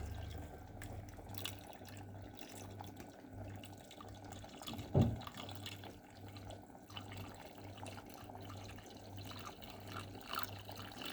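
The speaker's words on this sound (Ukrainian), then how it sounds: "доливаю ще водички, бо її має бути по плечики баночок" Water being poured or topped up into a pot holding lidded glass jars set up for sterilizing peaches in syrup, a steady low running-water sound with a brief louder splash midway, no talking.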